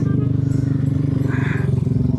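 A motorcycle idles close by, a loud steady rhythmic thrumming pulse lasting the whole moment, with no one speaking.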